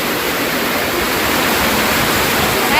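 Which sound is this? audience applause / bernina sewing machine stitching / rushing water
rushing water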